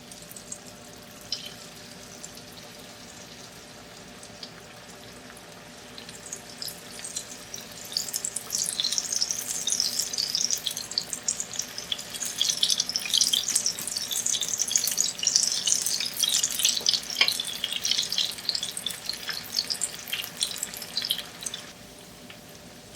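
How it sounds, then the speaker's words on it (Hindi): Eggplant pakoras deep frying in hot oil, a steady bright sizzling hiss that swells louder midway and holds, with no talking. "देखिए बैगन वाले पकोड़े को फ्राई करेंगे।"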